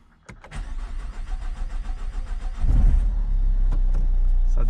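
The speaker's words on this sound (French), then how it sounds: "Ça démarre." A Renault 1.5 dCi diesel engine cranks with a rhythmic whirr, then catches and settles into a loud, steady idle, recorded up close with no talking.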